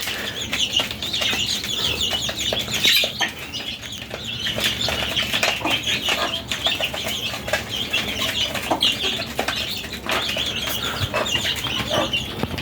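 About month-and-a-half-old chicks scramble over feed on a house rooftop, with steady clucking, cheeping and bursts of wing flapping that continue densely and close by throughout.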